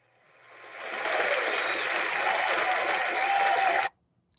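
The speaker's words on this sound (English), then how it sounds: "Let me see if I can do the applause again." Recorded applause played into an online alumni fellows awards ceremony, a steady wash of clapping that swells in over the first second, holds evenly, then cuts off abruptly.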